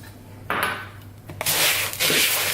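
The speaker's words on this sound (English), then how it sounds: "So I'm just going to tip that in with all the dry mix." Melted mixture is tipped from a container into dry mix in a bowl, with close, fairly loud scraping and clinking of utensil against the dishes, in a few short bursts.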